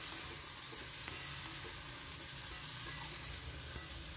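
Spices and small puti fish stir-fry in a pan over a low flame, giving a steady, soft, even sizzle with faint occasional scrapes of a spatula, close by and without speech.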